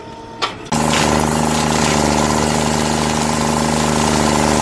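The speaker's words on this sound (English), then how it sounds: "The grinder spins at high speed, biting into the stump with sparks and dust flying." A stump grinder working on a giant tree stump: after a brief knock, the machine kicks in loudly and drones at a steady, high, harmonic pitch until the end.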